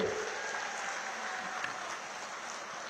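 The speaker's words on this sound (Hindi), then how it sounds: "जोर से ताली बजाइए जरा चारों प्रत्याशियों के लिए।" A large crowd at an outdoor political rally in West Bengal claps steadily and loudly, a dense sustained wash of applause with no talk over it.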